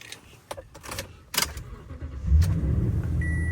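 Keys jingle and click briefly, then a 2015 Toyota Tundra pickup truck engine cranks and catches, settling into a steady low idle close by.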